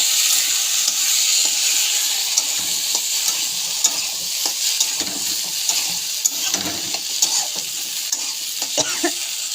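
Taro leaves and lentils are stirred in hot oil in a pan, giving a steady close sizzle under repeated scraping, stirring clicks with no talk.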